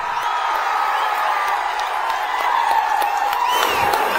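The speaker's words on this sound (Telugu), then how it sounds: "ఓకే, గట్టిగా చప్పట్లు కూడా చెప్పండి." A large outdoor political rally crowd cheers, whistles and claps in a continuous dense roar, loud and sustained throughout with shouts rising above the mass of voices.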